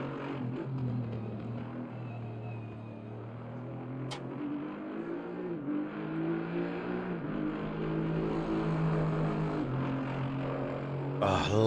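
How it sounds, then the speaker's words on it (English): A GT3 race car engine in Assetto Corsa Competizione at Silverstone drones steadily, rising and falling in pitch through gear changes, with a brief swell near the end. "Oh, I love the sound of that engine."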